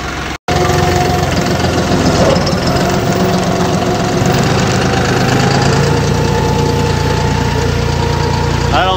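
A tractor engine runs loud and close at a steady idle with a rough, knocking rumble, continuous throughout apart from a brief dropout at the start.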